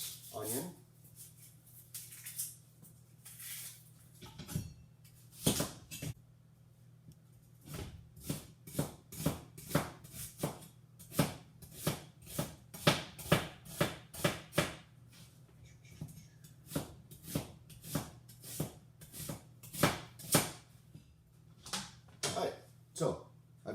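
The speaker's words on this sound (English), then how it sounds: "So what I'm going to do here is just julienne this onion." A knife cuts a sweet onion into thin julienne strips on a board, making a long run of crisp, evenly spaced taps that come in quick bursts, with a low hum and some talking underneath.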